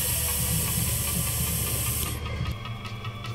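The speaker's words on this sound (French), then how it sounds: "Donc, clé de 8, purgeur, on aspire, on vide l'étrier." A pneumatic brake bleeder hisses steadily as it draws fluid from a motorcycle caliper on a 2020 Kawasaki ZX6R, up close, then the airflow shifts and the hiss thins out near the end.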